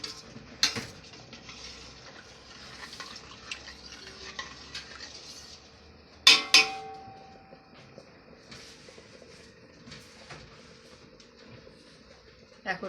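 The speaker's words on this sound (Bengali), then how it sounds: "পোলাওর চাল ছাড়ার পরে হালকা নেড়ে দিয়ে ঢেকে দেব।" Pulao rice being stirred lightly in a pot, a soft continuous scraping with occasional clinks, then a sharp metallic clatter as the lid goes on, followed by quieter cooking noise.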